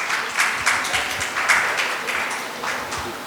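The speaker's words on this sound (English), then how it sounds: "Please give him a big round of applause" An audience at a trade conclave panel discussion in Mumbai applauds to welcome a speaker, with moderate, steady clapping over about three seconds and no talk.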